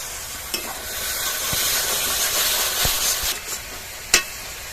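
Tomato paste goes into hot spiced oil and sputters into a steady sizzle, with a few sharp clicks and scrapes from a stirring utensil and one louder knock near the end.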